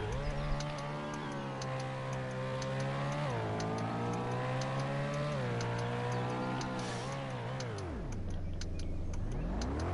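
A car driven in the Roblox video game gives a steady, close engine drone that rises and dips in pitch as it revs, then drops low and climbs again near the end. No one speaks.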